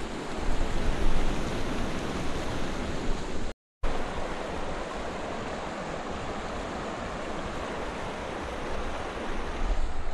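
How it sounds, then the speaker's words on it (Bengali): Strong river current rushes over the Mohonpur rubber dam in the rainy season, a loud, dense, unbroken roar like heavy surf, steady throughout apart from a brief cut to silence. "আজকে এতটাই স্রোত যে নামার যে সাহসটা সেটাই করতে পারলাম না"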